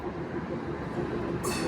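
A train rumbles steadily close by as it pulls in, with a broad continuous roar and a brighter hiss rising near the end, no voices over it.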